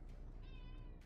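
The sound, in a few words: cat meowing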